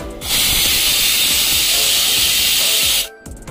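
A pressure cooker in a home kitchen vents steam in one loud, continuous hiss lasting about three seconds, then cuts off abruptly.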